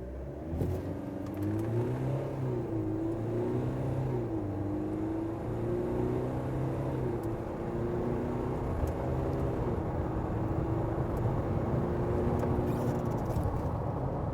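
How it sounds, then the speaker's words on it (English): 2022 GWM Cannon ute accelerating from 0 to 100 km/h, its engine droning loud and close, the pitch climbing with each gear and dipping at the shifts, with steady road and wind roar underneath. "GWM doesn't have an official 0 to 100 time, but we've put it up against our stopwatch"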